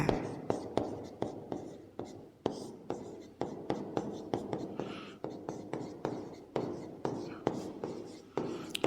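Pen or chalk writing in a class 10 chemistry lesson, a close run of quick scratchy strokes in short bursts with brief taps and pauses, steady throughout, with quiet speech in the background.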